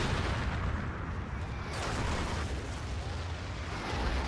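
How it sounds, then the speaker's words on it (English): Artillery fire in Battlefield 2 roars as a dense, sustained barrage of booming impacts and rumbling blasts, loud and continuous throughout with no talk over it. "Artillery from Liet finds one on Hayaz."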